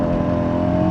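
Hyundai i20N hot hatch accelerating hard in second gear with the wheels spinning, a loud, steady, close engine roar with strong low harmonics and no talk.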